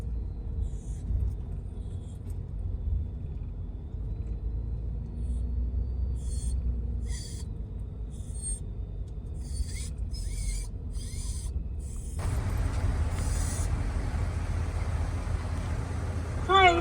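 A pickup truck carrying a camper rolls slowly onto a truck scale, its low engine rumble steady and close, with faint clicks and rubbing sounds and a louder shift in tone near the end.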